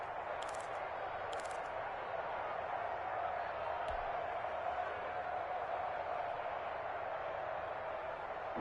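A stadium crowd roars steadily in a football video game during a Chiefs vs Giants matchup, a constant broad wash of noise swelling ahead of a big third down, with a couple of brief sharper bursts early on.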